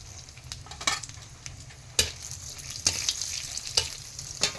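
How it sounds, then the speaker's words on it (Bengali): Steady sizzling of dried red chillies frying in hot oil up close, broken by several sharp scrapes and taps of a spoon in the pan. "শুকনো লঙ্কাটা হালকা ভাজা হলে"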